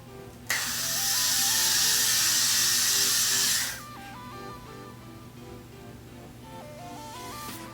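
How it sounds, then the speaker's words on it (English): Hairspray hisses onto hair in one loud continuous burst of about three seconds, set against quiet background music that carries on after the spray stops. "I've got to be glued hairspray that I will use to hairspray this."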